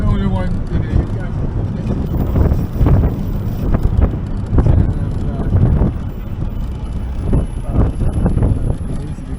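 A car drives through the town of Ocho Rios, Jamaica, its steady road and engine rumble mixed with wind buffeting the microphone, while people talk over it throughout.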